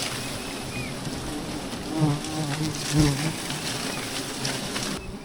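Honey bees swarming around their nest, a dense continuous buzzing hum close by with louder swells as individual bees pass near.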